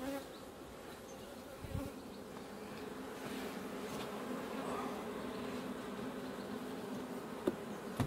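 Honey bees hum in a steady, dense buzz over a hive frame, close and continuous, with a few faint taps and knocks scattered through it.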